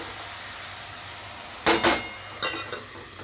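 A steady, soft hiss of cabbage simmering with a little water in a covered pan, broken by two brief clattering bursts near the end.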